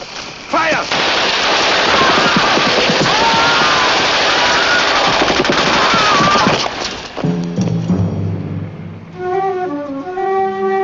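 Soldiers' weapons fire on command in a dense, crackling barrage that runs for several seconds, then tapers off as a lower tonal sound and voices take over near the end.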